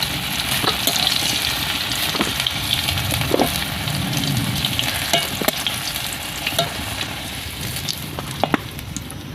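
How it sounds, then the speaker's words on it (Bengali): Potatoes and pointed gourd sizzle steadily as they fry in oil in a kadai, with close crackling and occasional stirring clicks, no talk. "তো আলু পটল খুব লাল লাল করে ভালো করে ভাজা হয়ে গেছে।"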